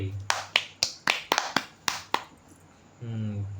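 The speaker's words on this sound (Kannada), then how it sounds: "ಚಪ್ಪಾಳೆ" About nine sharp hand claps ring out close and crisp in an uneven rhythm, followed by a pause and a voice speaking.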